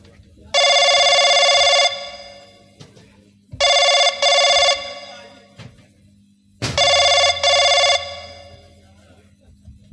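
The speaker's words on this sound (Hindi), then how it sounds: "राजकुमारी नेहा जी का फोन है।" A telephone rings in three loud bursts of electronic trilling, each a second or so long, separated by short gaps, with low background noise between them.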